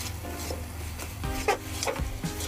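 A spoon stirs a water chestnut sweet mixture through melted sugar in a pan, giving soft scraping and rubbing strokes with light sizzling, close and steady.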